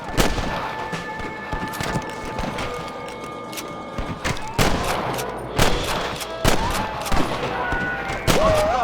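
Repeated sharp gunshots ring out in a PC Red Dead Redemption shootout, coming in irregular bursts of loud, close cracks over a busy background.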